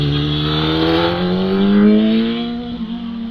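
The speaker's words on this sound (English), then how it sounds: "Out from now, I can hear the car." A bright blue Empire 3 race car climbs the Harewood hillclimb course, its engine note rising steadily in a strong, continuous drone as it accelerates. It is heard clearly at a moderate distance, with no talk over it.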